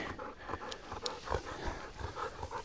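A dog in a forest, obedient until it spots other animals, makes rough, repeated barks or growling huffs at mid distance amid outdoor noise.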